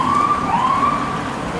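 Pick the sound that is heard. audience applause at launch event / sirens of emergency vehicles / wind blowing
sirens of emergency vehicles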